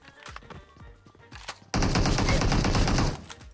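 Shooter video game firefight: after a few short sharp shots, a loud sustained burst of rapid gunfire lasts more than a second, close and dominant, with no talk over it.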